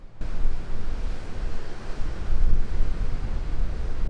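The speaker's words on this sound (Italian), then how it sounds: "il vento rende il caldo sopportabile" Strong wind gusts across a seashore, a loud, continuous broadband roar, with surf washing in the background and wind buffeting the microphone throughout.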